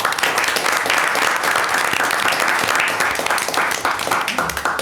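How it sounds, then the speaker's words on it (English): A town council meeting audience gives a big round of applause, loud sustained clapping filling the room from start to finish, dense and close, with no talk over it. "Can you give them a big round of applause?"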